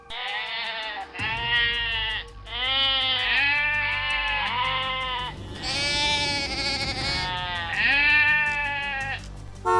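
Several sheep bleat repeatedly, loud and close, their wavering calls overlapping one after another over a low background rumble, with no talking.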